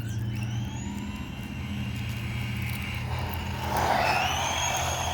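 An Axial Exo Terra RC truck runs across a parking lot with a steady electric motor whine and drivetrain hum that climbs in pitch as it speeds up.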